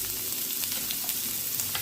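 A large onion fries in a pan for a pomfret green masala dish, giving a steady, even sizzle close by with faint crackles and no voices throughout.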